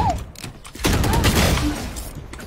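Sheriff pistol shots in the game Valorant ring out as a few sharp, loud reports, followed by a dense burst of overlapping gunfire and ringing tails.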